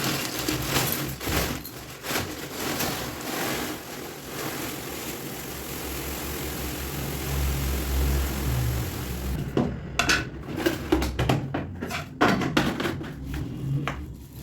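Puffed rice (muri) poured into a drum, a continuous dry rustling hiss that turns into scattered rattling taps and clatters toward the end.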